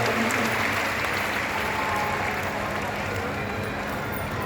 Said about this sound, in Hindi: भगवान कुंदकेश्वर पधार रहे हैं, जोरदार तालियों का स्वागत करिए।